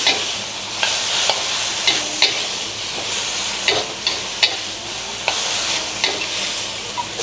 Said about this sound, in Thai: ตอนเราผัดเนี่ยนะเราเร่งไฟขึ้นมา ทีนึงพอเรเร่งไฟปุ๊บเราก็ผัด